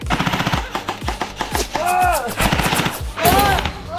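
Rapid machine gun bursts in a video game firefight, dense repeated shots at close range, with excited voices shouting over the gunfire.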